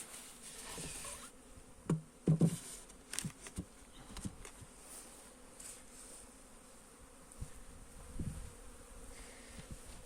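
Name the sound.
bees buzzing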